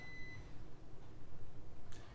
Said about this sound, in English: The beeping of the dishwasher tells me that this rite has come to an end.